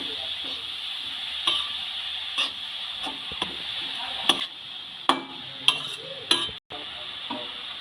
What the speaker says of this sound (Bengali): খুব ভালো করে সমস্ত উপকরণ দিয়ে ফুলকপিটা মিক্স করে নেব